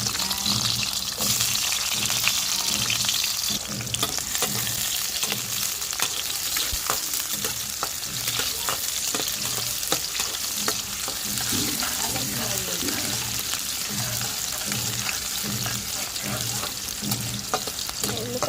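Onions frying in hot oil, a dense, continuous sizzle with rhythmic stirring scrapes throughout, close and steady.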